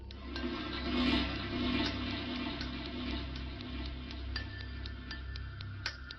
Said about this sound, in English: The game version of this song includes a lot of added ambient sound effects, like the toilet flush at 8 seconds